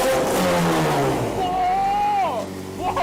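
A 4-litre twin-turbocharged car engine with an aftermarket exhaust and tune accelerating hard, a loud rising roar whose pitch climbs and shifts through gears before easing off, close by, with a voice exclaiming over it.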